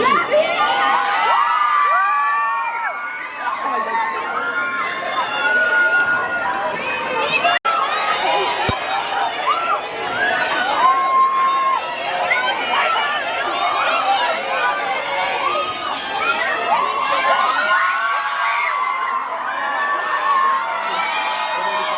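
A crowd of fans at a celebrity meet-up in Barcelona screams and cheers continuously, with high-pitched shrieks and overlapping voices filling the whole stretch, loud and close.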